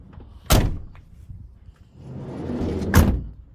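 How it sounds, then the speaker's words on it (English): Door of a VW Karmann motorhome on a T4 base, shut twice with solid, close thuds, a short rustle of movement between the two closings. "That's the nicest closing door I think I've ever shut."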